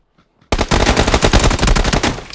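Automatic gunfire in PUBG opens after a brief quiet moment and turns into a loud, rapid burst of shots that carries on close and continuous to the end.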